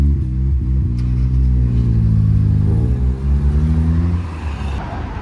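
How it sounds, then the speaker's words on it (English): A car at a Reading Jap Meet launches hard on launch control, its engine holding a loud, steady rev before surging forward with rising pitch, close by and alone with no talk. "Oh, launch control."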